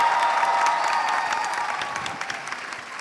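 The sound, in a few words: audience applause at a book fair panel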